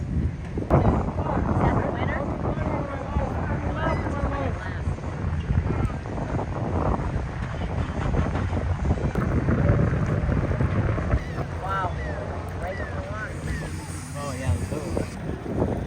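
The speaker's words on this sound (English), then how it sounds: "the wind is howling today" Strong wind roars and buffets against the microphone continuously, with people talking underneath the gusty rumble, at a sailing regatta in the Bahamas.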